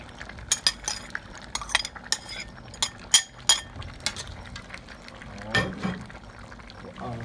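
Chopped scallion, thyme and garlic tipped into a stew pot, giving scattered clinks of utensil on bowl and pot and a soft pouring rustle near the end, close by under a quiet kitchen background.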